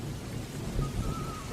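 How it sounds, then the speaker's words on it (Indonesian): Heavy rain pours steadily with low thunder rumbling beneath it, a dense loud downpour with no voices. "Sial, hujannya sangat deras."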